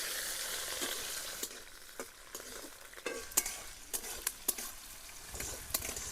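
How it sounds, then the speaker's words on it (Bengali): Peeled onions and crushed garlic fry in mustard oil with a constant crackling sizzle, broken by sharp scrapes and clicks from stirring. The sound is close, with no speech. "পেঁয়াজগুলা ভাজা যাক"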